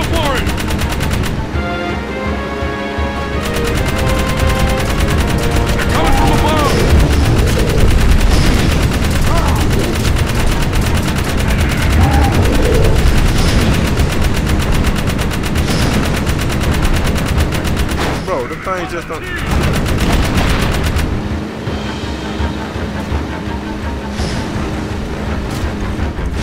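Sustained automatic gunfire in the Jak 3 video game as enemies in a metal-pede nest are shot down, rapid and loud throughout with a brief lull near the end, mixed with game music and effects.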